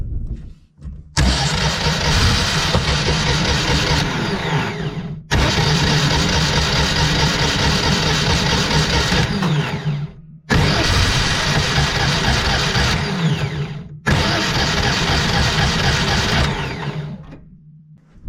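A Citroën 2CV engine fitted with a new starter motor cranks loudly in three long bursts of several seconds each, separated by short pauses, and never catches.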